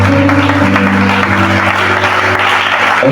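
A church congregation applauds and cheers steadily and loudly, a dense continuous wash of clapping over sustained organ or keyboard tones.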